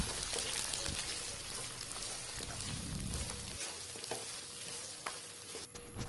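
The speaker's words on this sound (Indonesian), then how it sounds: "lalu masukkan cabai percabean dan buncis ya lalu ditumis sebentar" Continuous crackling sizzle of chili and green beans stir-frying in a hot pan, with occasional scraping stirs, steady and close.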